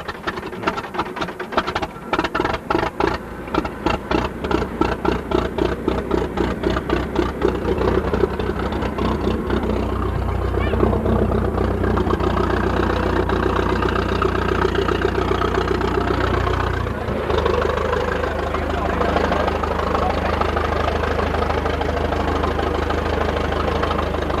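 A Fordson Major tractor at an agricultural show idles close by, its rhythmic, knocking diesel beat loud and steady, smoothing into a continuous drone partway through, without any speech.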